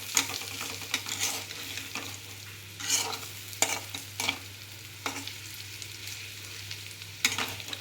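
A Tamil-style potato fry is stirred in an oily pan over low heat, with a quiet background sizzle broken by several distinct scraping stirs at uneven intervals and no voices.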